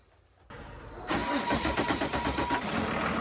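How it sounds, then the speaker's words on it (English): An RV engine starting with a faulty water pump that lets the belt walk off the fan pulley: a click and crank, then the engine catches and settles into a loud, rough idle. "as soon as the engine is started"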